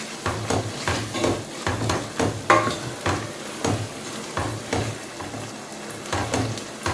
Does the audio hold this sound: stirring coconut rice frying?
yes